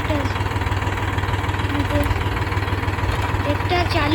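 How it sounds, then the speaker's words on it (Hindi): A tractor engine idling close by with a steady low throbbing rumble and vibration, continuous throughout, with faint voices over it. "ट्रैक्टर चालू है"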